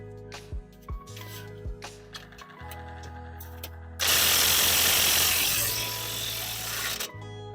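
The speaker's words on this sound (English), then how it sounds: "So let's get our 1/2 inch impact." A 1/2 inch impact wrench loosens 18 mm bolts on a Chevrolet HHR's front suspension, giving a loud sustained whirring hammer burst after a few short clicks and knocks.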